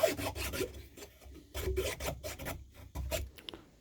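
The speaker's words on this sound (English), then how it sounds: "And now the file. This will be quite a bit of filing actually." A hand file rasps against the handle of a Hogue EX-F01 knife in repeated close back-and-forth strokes, each a gritty scraping burst with brief pauses between.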